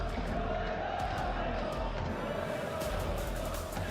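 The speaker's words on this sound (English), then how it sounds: "Crowd is up for it though, thankfully." An esports arena crowd cheering and roaring loudly in a sustained swell, filling the space with a broad wash of voices.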